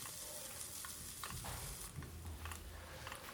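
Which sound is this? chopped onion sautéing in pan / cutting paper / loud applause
chopped onion sautéing in pan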